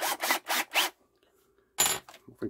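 Drill bit being chucked into an aging cordless drill: a few quick ratcheting bursts of the chuck turning, a pause, then another louder burst and light handling clicks, close and alone.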